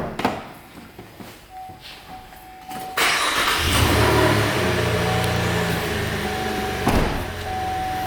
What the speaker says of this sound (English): we want to go ahead and start the car